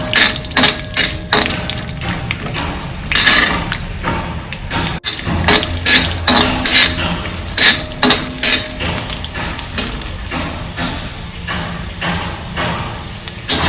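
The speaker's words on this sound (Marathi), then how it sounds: "तेल टाकूनच भाजून घेते शेंगदाणे खमंग भाजायचे" Peanuts roasting in oil in a pan over a low flame rattle and clink against the metal as they are stirred, loud and close, with scraping and knocking in an irregular rhythm.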